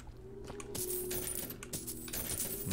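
Coins being picked up in BioShock Infinite: a quick cluster of bright metallic clinks over a faint, steady ambient backdrop with a soft musical hum.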